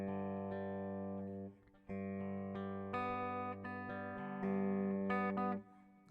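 Clean electric guitar chords, slightly out of tune, ring out one after another with sustained, steady tone, close and fairly quiet, with no talking.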